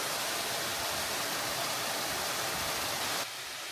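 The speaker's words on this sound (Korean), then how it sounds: "용연폭포는 2단 폭포고요." Yongyeon two-tier waterfall with a 10 m drop, a steady broadband rush of falling water, loud and continuous, then slightly quieter in the final half second.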